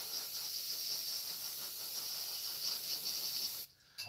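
Steady aerosol spray can hiss laying a misty coat of matte varnish over a model, continuous and close for several seconds, then cutting off abruptly near the end.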